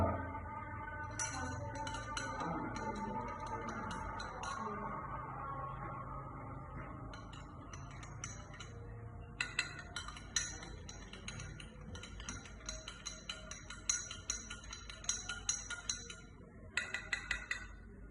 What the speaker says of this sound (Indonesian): Terus kita aduk ya sampai benar-benar merata.